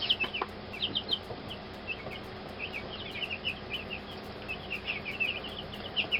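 Meat chickens on a farm cluck softly and repeatedly at a distance, with short bursts of calls scattered over a faint background of insects chirping.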